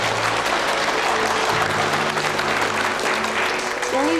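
Sustained applause from a group in a courtroom drama, dense and steady throughout with low background music tones underneath, fairly loud and close.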